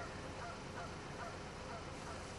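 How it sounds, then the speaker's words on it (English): Tufted ducks on water in the Avon valley give faint honking calls, nearly buried under a constant broadband rush of wind and outdoor noise. "Tufted duck."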